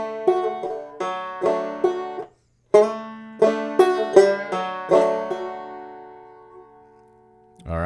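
Clawhammer banjo playing a measure of Reuben's Train: bright plucked strums and brushed strokes in a steady rhythm, with a slide and a pull-off, close and clear, ending on a ringing note.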